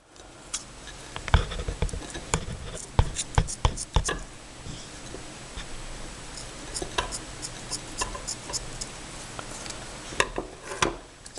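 Paracord ends being trimmed from a homemade pair of nunchaku, heard as a series of sharp, close clicks and snips in irregular bursts, with quieter handling noise in between.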